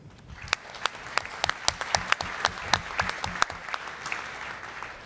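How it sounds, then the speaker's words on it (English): Scattered audience applause at a Forbes Demo Day startup showcase, sharp individual hand claps ringing out fairly softly from a modest crowd for several seconds as the pitch session's final presenter takes the stage. "please give a big round of applause to the CEO of Intel, Ms. Marion Singer"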